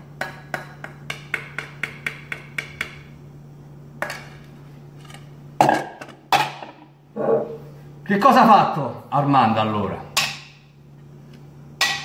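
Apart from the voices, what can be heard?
piercing holes in a jar lid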